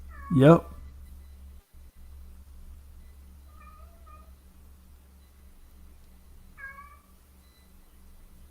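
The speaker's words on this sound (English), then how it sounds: "If you hear a cat wailing in the background" A cat lets out one loud, wavering wail close by, then gives several short, fainter meows later over a low background hum, and someone says a brief word.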